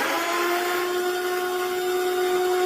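A coffee grinder grinds coffee beans with a steady, continuous motor whine at an even pitch, loud and unbroken throughout.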